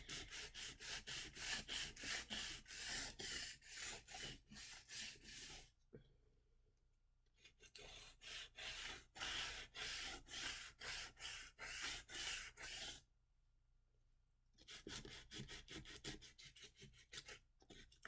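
A painted wooden paint stick is sanded by hand with sandpaper: close, rapid rhythmic back-and-forth rasping in long runs, pausing twice for a second or two of quiet.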